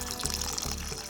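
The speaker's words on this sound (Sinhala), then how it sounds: "මේකට වතුර දානවා" Water poured into a bowl of cut dried fish, a close, steady splashing stream with a couple of brief surges.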